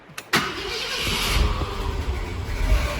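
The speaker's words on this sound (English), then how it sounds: "The engine has to be running because that's what creates the vacuum." A 1964-66 Ford Thunderbird engine catches with a sudden loud burst, then settles into a steady, rumbling idle heard up close.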